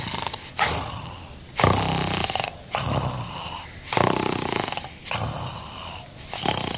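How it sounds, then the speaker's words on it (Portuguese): A person snores loudly and theatrically while pretending to sleep: five or six deep, rasping snores in an even rhythm about a second apart, each separated by a short quiet breath. "Começa a roncar."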